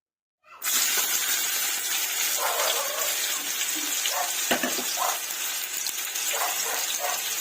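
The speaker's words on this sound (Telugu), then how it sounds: "ఆయిల్ హీట్ అయిందండి, నేను ఆనియన్స్ వేసుకుంటున్నాను." Sliced onions dropped into hot oil for chicken biryani set off a sudden, steady loud sizzle that continues without a break, with faint clinks of a utensil stirring now and then.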